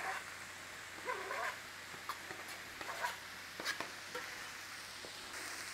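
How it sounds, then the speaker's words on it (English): Cabbage and onions sautéing together in a pan, a soft, faint sizzle with occasional sharp clicks and taps of a utensil, near and without talking, and a brief whimpering sound in between. "saute your cabbage and onions together"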